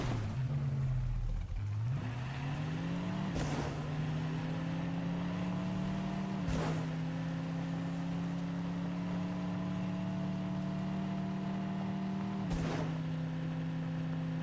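A Ford Mustang Shelby GT500 engine in a video game drones steadily and loud, with pitch stepping up through several gear changes punctuated by sharp shifts, running alone throughout.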